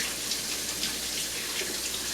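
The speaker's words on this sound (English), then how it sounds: "I'm also going to wash my hands quickly" Tap water runs steadily into a sink as hands are washed after handling raw eggs, a continuous close splashing hiss with no speech.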